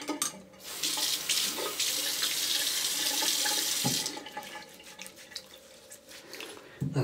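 Tap water runs steadily into a sink while a Bic Twin Select disposable razor is rinsed, a close continuous splashing that fades and thins midway before picking back up.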